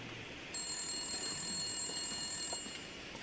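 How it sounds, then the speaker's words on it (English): A telephone rings inside the survival video game The Long Dark, a single sustained electronic ring lasting a couple of seconds over faint background hum, with no talking over it. "The phone just rang?"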